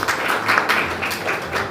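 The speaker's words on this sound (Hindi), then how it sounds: "एक बार इन बच्चों के लिए जो यहाँ पर बैठे हुए हैं, उनके पेरेंट्स के लिए ताली हो जाए" Audience at a school prize distribution ceremony applauding students and their parents: a short burst of dense, loud clapping from many hands, close and sustained throughout.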